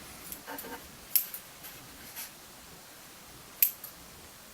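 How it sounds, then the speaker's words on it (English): Two crisp scissor snips, well apart, quiet and close, with faint rustling between them. "Let's get scissors and cut that bit off."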